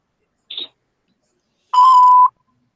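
A voicemail playback beep: a short faint chirp, then a single clear electronic tone lasting about half a second, with silence around both.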